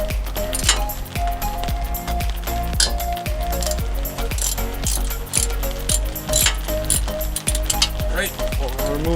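Ratchet working a brake caliper bolt loose, rapid rhythmic clicking of the pawl in repeated strokes, close up and continuous with faint background noise.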